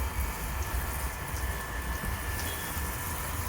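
Forest liquid fertilizer solution is poured onto the soil around plants, a continuous wash of splashing liquid close by that stays even from start to end, with no voices.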